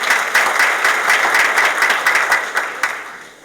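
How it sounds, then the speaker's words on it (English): Sustained applause from an evening awards-ceremony audience in Williamson County, loud and steady, gradually fading out toward the end. "Give yourselves a round of applause."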